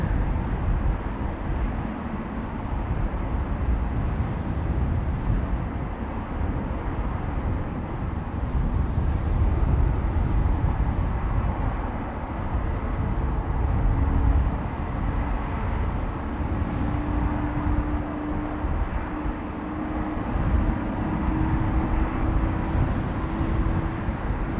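A TUI Boeing 767 airliner at Amsterdam Schiphol on a windy day, a steady broad jet roar with a faint rising engine whine, sustained and fairly loud throughout with gusty wind over the microphone.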